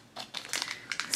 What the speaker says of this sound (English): These bags can be hard to open.